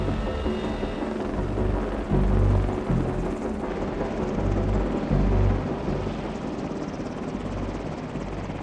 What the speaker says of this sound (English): The Marines use the CH-53E Super Stallion to move people and gear for critical missions.